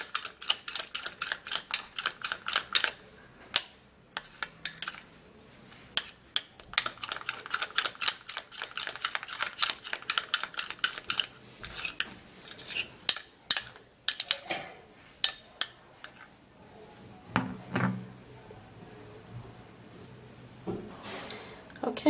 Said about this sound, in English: We have to mix very well so that it all mixes together really well.